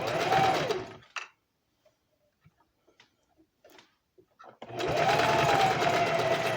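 A sewing machine runs an open stitch on underwear fabric, loud and steady at the start, stopping for a few seconds of faint clicks and handling, then starting up again and running continuously to the end.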